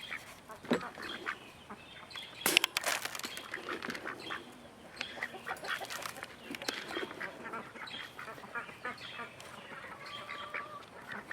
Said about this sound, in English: Tell the ducks bye.